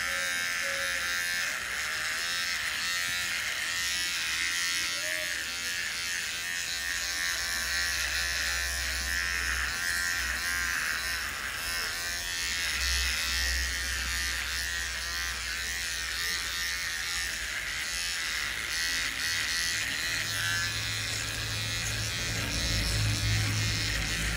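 An electric shaver works through a month's growth of hair, giving a steady, close, continuous buzz that hums on with slight changes in pitch and no talking.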